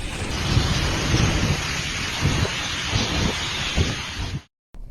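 Heavy rain and storm wind from Typhoon Pepito lashing the coast around Polillo, Quezon, a dense steady roar with gusty surges and rumbling thunder throughout, loud and close, ending in a sudden cut to silence.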